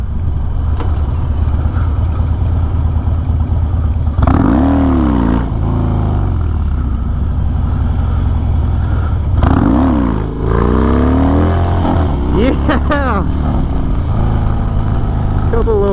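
A Harley-Davidson motorcycle roars loudly and close while being ridden, its engine rumbling steadily and rising in several revving surges as it accelerates, with a rider's voice breaking in once or twice.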